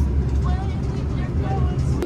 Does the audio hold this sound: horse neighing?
no